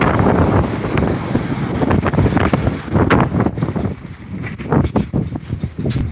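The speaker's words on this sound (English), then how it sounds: "Let me get out of the wind here really quickly." Strong outdoor wind buffets the microphone in loud, low, rumbling gusts that rise and fall without a break, with no clear speech.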